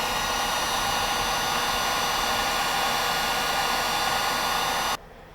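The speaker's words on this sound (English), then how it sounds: "Now we're going to heat shrink all these together and we're ready to install them." Heat gun blowing a steady, loud fan-and-air roar while shrinking heat shrink crimps on wires, running continuously before cutting off abruptly near the end.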